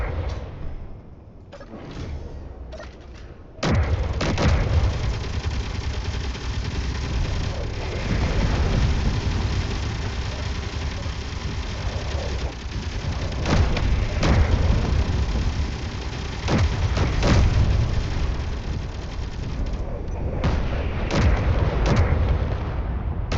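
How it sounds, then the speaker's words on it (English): Meteor storm impacts in a video game rumble continuously for over twenty seconds, a dense roar of booming, crackling strikes like heavy artillery and rain, loud and sustained after a quieter start, with no talk. "Meteor storm."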